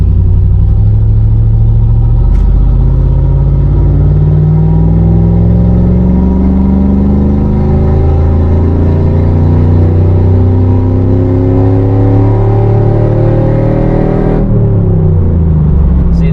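A truck engine with a failing transmission revs high and drones loudly for a long stretch, pitch climbing gradually as it runs at high RPM, then drops off abruptly near the end.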